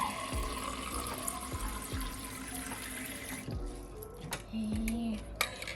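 Tap water runs into a sink during a test of a tankless Bwell RO-500 reverse osmosis filter, a steady close rush that thins partway through, followed by a few drips and splashes.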